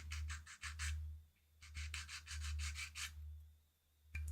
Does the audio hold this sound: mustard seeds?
no